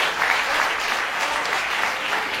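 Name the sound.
applause for a trumpet competition finalist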